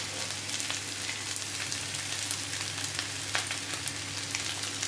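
Spiced aloo bukhara curry sizzles steadily in a pan while being stirred, a close continuous frying hiss with faint scraping, no talking.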